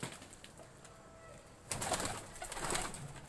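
Pigeons coo softly at a distance over a steady background hiss, with a louder, fuller stretch of cooing and bird activity in the second half.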